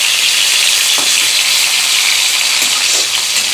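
Steady, loud sizzle of live-caught fish frying in hot oil, a dense crackling hiss with a couple of soft clinks from turning the pieces.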